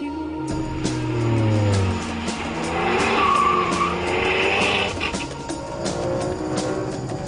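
A Ferrari 599 GTB engine roars and revs at speed while driving through a tunnel, the sound echoing and booming, with a tire squeal rising briefly in the middle.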